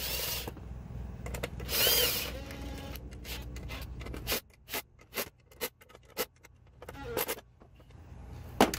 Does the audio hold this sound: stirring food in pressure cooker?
no